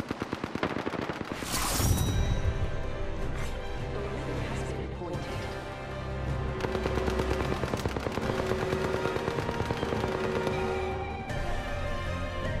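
Gunfire in the battle royale game Apex Legends: repeated rapid automatic bursts and sharp shots over several seconds, loud and close, with a crashing impact near the start.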